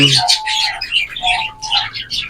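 Young zebra finches kept as pet birds give a run of short, bright chirps and tweets in quick, uneven bursts, close and fairly loud with no other sound.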